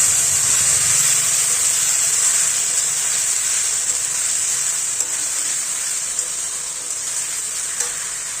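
Potatoes sautéing with a paste of garlic, ginger, green chilli and cumin, giving a steady loud sizzling hiss with faint stirring scrapes throughout, no voices.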